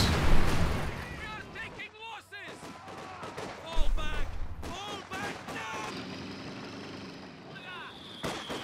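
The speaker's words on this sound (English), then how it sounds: "rough grenade coming in" Grenade explosions in the Company of Heroes 2 strategy game, two deep booms a few seconds apart amid scattered battlefield gunfire, with a voice talking over the action.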